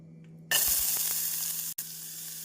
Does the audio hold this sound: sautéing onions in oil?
yes